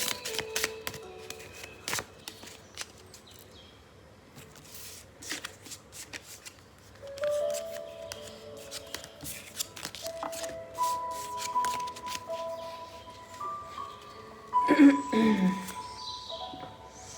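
Tarot cards being shuffled by hand, a run of crisp riffling flutters and soft slaps repeated over several seconds, close and clear, with a brief louder burst of card handling near the end.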